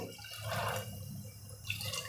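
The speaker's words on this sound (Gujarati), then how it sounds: "હવે એમાં આપણે અડધો જ વાટકો પાણી નાખવાનો છે અડધો જ બાઉલ" A short splash of water pours into a pot of rice, followed by a faint trickle and quiet background hum.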